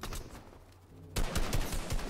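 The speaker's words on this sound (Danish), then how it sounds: "Hans ven skyder også, tror jeg." Gunfire in the video game Fortnite: a quieter stretch gives way to a loud, sudden burst of rapid repeated shots that keeps going until the end.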